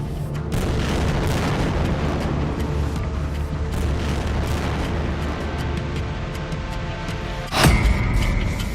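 Continuous deep rumbling from heavy bomb explosions in Israeli air strikes on buildings, with one sharper, louder blast bursting out near the end.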